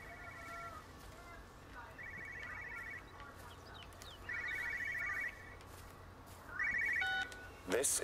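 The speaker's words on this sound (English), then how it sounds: "Okay, that phone's not in there." A telephone rings in the video game Everybody's Gone to the Rapture, with short electronic ring bursts repeating every couple of seconds over a quiet ambient background, the last bursts a little louder.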